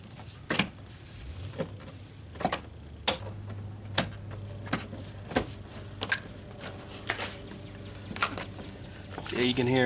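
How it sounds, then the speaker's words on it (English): Plastic clips on a Toyota Sequoia rear window weather strip snap into place with a string of sharp, close clicks at irregular intervals over a low background rumble. "you can hear the white tabs clicking in."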